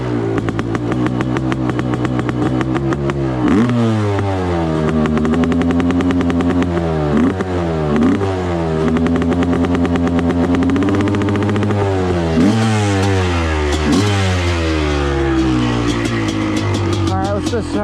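A Honda CR500 two-stroke dirt bike engine runs up close and loud, idling and blipping through repeated revs that rise and fall, continuous throughout.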